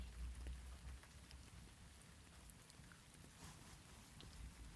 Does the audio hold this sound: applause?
no